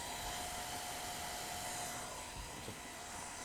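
A hair dryer runs steadily as a constant loud whooshing hum with a faint whine, used to warm a graphics card during overclocking, with no voices.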